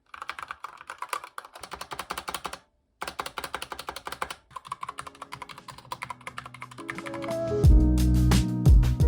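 Rapid typing on a Corsair K70 RGB Pro mechanical gaming keyboard, a steady flurry of muted key clacks with a brief pause, then a louder mechanical hum near the end.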